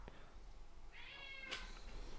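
A pet cat gives a single faint, drawn-out meow with a rising, slightly whiny tone, followed by a soft clunk against quiet room background.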